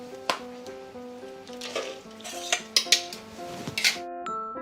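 Minced beef, Vietnamese shrimp and vegetables are mixed in a bowl, with scattered clinks and scrapes of utensils against the dish, soft and close, alongside tonal musical notes in the background.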